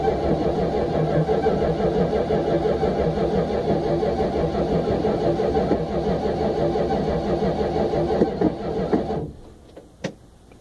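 A 1964 Chrysler New Yorker engine on a cold start, running loud and steady at a rough, rumbling idle close by, then cutting off abruptly near the end, followed by a brief click.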